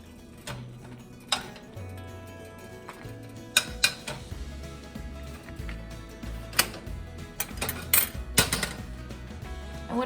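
Toasted chilies are shifted around in a pan with light metallic clinks and scrapes, irregular taps of utensil on cookware scattered through the stretch, moderately close with a low hum underneath.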